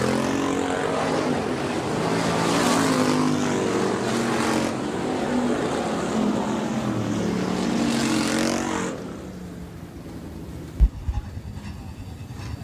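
Loud, steady engine roar of the 61N Sportsman/Hobby Stock car coming off turn 4 at Rapid Speedway, sustained for about nine seconds before cutting to quieter ambience with a sharp knock.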